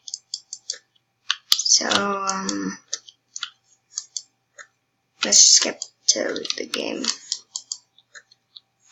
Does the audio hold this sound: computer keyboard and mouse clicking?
yes